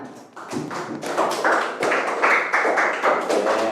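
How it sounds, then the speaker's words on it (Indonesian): A classroom of pupils claps hands together in rhythmic, patterned bursts, some beats landing in unison, loud and close, with no talking over it. "Tepuk tangan, tepuk tangan."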